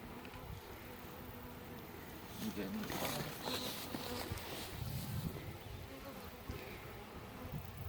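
Honey bees buzzing around stacked beehive boxes, a dense close hum with individual bees swelling past, and a person talking faintly beneath the swarm.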